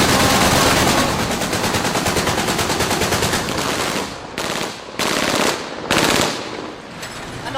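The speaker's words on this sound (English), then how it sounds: "Another long burst of rebel gunfire there." Long, rapid bursts of automatic rebel gunfire, loud and close, rattling continuously before breaking into several shorter separated bursts.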